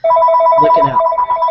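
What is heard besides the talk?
telephone ringing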